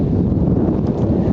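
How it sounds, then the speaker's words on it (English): Strong gusting wind at a windsurf sailing race blasts across the microphone in a steady, loud, low roar, blustery and unbroken with no speech. "looking pretty windy out there"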